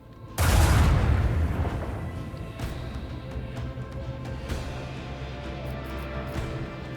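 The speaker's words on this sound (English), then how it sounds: "Then dorsal cannon on them." A starship's dorsal cannon fires in the video game Rogue Trader, starting with one heavy booming blast that rolls into a long rumbling decay. Softer distant thuds follow underneath, and no voices are heard.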